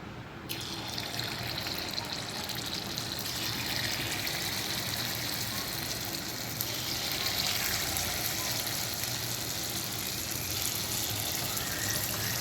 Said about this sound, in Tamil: நல்லா காஞ்சிருச்சு பனியார் ஊற்றிக்கலாம்